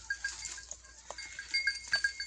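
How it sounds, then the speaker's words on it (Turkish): A newly acquired goat on a small Turkish farm, with soft, distant-sounding bleats and animal noises scattered over a quiet background and no talking. "Bu da Allah'ın izniyle yeni keçimiz."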